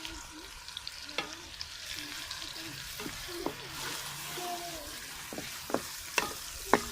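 Ginger and chicken frying together in a pan, a low steady sizzle with repeated sharp clacks and scrapes from a stirring spoon, growing more frequent toward the end.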